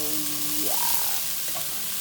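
Pre-cooked, seasoned ground turkey heats in a pan with a steady, even sizzle and hiss, close and continuous, with a brief squeaky tone rising over it partway through.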